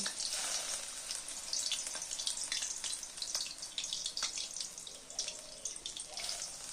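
Raw banana pakoras dropped one at a time into shallow mustard oil, giving a steady bright sizzle with crackling bursts that flare as each piece goes in, close and continuous with no talking.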